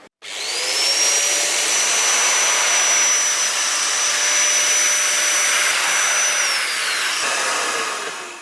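A domino joiner plunge-cuts a slot into a hall table rail, giving a loud, close, steady high-pitched whine that spins up sharply, holds for about seven seconds, then winds down.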